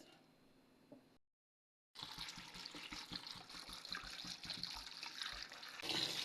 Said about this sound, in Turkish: Sonrasında güzelce yıkayacağız.